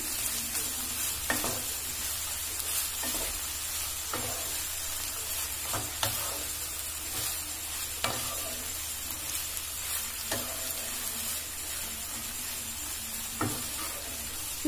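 Sliced fried egg being stirred into soya-and-cheese egg roll filling in a frying pan, steady sizzle throughout with a utensil scraping the pan every couple of seconds in a regular rhythm, close and moderately loud, no talking.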